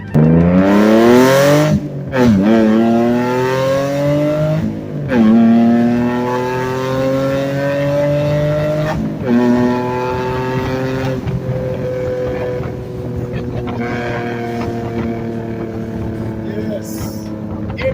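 Nissan 350Z Roadster engine revving hard while driving, loud and close, climbing through several gears in rising sweeps with sharp drops between shifts, then settling into a steadier drone.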